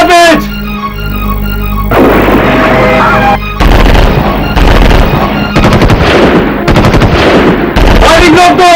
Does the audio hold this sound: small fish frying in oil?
no